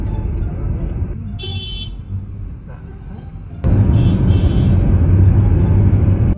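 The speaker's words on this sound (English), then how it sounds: "What is he honking at?" Car horn honking from a vehicle stopped at a red light, short toots heard inside a car, followed by a louder steady stretch of horn and engine noise, with people talking over it.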